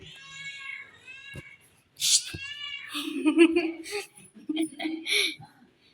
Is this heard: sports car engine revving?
no